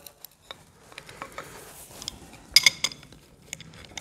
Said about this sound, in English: Let me get wrenches and get this apart.